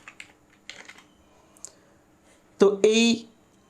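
Computer keyboard typing HTML code, a few light clicks scattered through quiet, followed by a voice speaking near the end.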